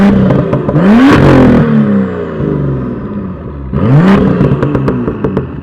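A 2018 BMW M2 engine revs hard twice, each blip a loud, close rising growl that climbs sharply in pitch and then falls back to a rumbling idle between them.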